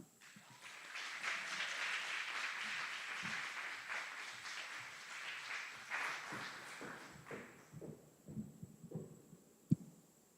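An audience at a military graduation at Fort Eustis claps through a faint, distant round of applause that rises, holds, then thins into scattered claps and a sharp knock near the end.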